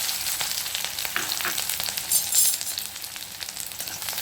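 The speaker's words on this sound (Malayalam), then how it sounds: "കഷ്ണമായിട്ട് വെച്ചിട്ടുള്ള ചെറിയ ഉള്ളി ഇതിലേക്ക് ഇടാം." Sliced small onions fry in hot coconut oil in a pan for a coriander chutney, a steady close sizzle with crackling pops throughout and no talk.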